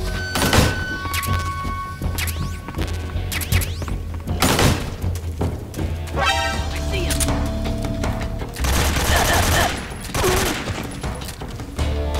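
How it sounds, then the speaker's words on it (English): Anti-aircraft gun firing in the video game Metal Gear Solid 3: Snake Eater, loud bursts of booming shots and thuds in irregular volleys over a low background drone. "The AA gun trying to shoot at me?"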